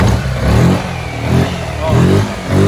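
Yamaha XMAX scooter fitted with a sport exhaust, revving in repeated surges that rise and fall about four times, loud and close with a throaty low rumble.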